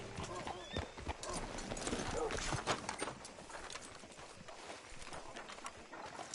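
Horse hooves clip-clopping on the ground in the Red Dead Redemption 2 video game, a soft steady rhythm of hoof steps at moderate distance, mixed with ambient game sound.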